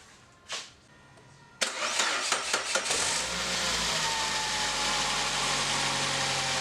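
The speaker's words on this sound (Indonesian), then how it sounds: "kita coba sekarang nyalakan si mesin mobil ya" Suzuki Grand Vitara car engine cranks with a few quick starter bursts, then catches and settles into a steady, fairly loud idle after a new fan belt is fitted, heard up close with no talk.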